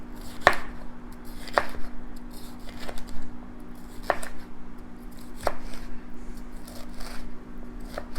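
A knife chops vegetables into julienne strips on a cutting board for an Asian shrimp dish, giving a few sharp, separate cuts a second or more apart over a steady low hum.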